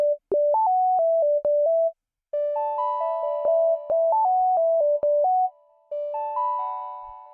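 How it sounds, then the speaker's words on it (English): Sine wave lead and bell synth built in Serum for a cute plugg-style melody, playing a clean, bright sequence of sustained tonal notes in a bouncy call-and-response pattern, with short gaps between phrases and no talking. "So I just made like a sine wave lead. I've just got this bell in serum as well."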